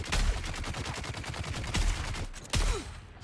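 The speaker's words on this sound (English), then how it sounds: "Whoa, 3 shots didn't take him down." Guns fire in the desert survival game Dune: Awakening, a fast burst of rapid shots followed by two separate heavy blasts, loud and close, with no talking.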